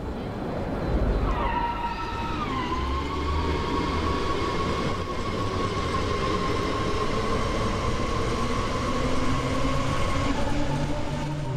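An S-Bahn train departs in the Train Sim World game, with a rising electric motor whine and steady rolling rumble that builds and holds close for several seconds.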